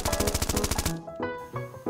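Rapid machine gun fire from a military aircraft strafing from the sky, a loud dense burst of fast regular shots for about a second, then a few scattered ringing tones fading out.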